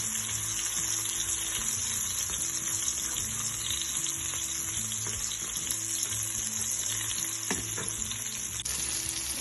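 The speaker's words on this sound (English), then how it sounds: "As you can see that the salmon is cooking" Salmon fillets pan-fry over turned-down heat in a steady, dense sizzle that holds evenly throughout, close and fairly loud with no talking.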